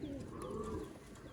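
Soft, low cooing of Sialkoti pigeons rolls on steadily with no pauses, close by, alone with no talking.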